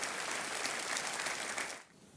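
A studio audience on the KBC game show, season 5, breaks into sustained, dense clapping that holds steady, then drops off sharply near the end.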